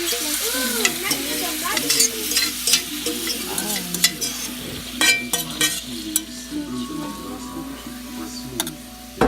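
Steaks sizzle in a pot with a constant frying hiss. Utensils clink and tick over it, and faint voices murmur in the background.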